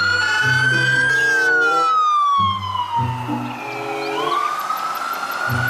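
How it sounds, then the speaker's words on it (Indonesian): A toy fire engine's electronic siren wails loudly and alone, sweeping up and down in pitch with a repeating melodic pattern underneath. "mobil pemadam kebakaran"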